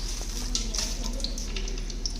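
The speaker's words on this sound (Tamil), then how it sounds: "தாளிக்கிறது போடுறேங்க்கா." Cinnamon, cloves, cardamom and fennel seeds hit hot oil and ghee for biryani, giving a soft steady sizzle with faint crackles and some stirring scrapes.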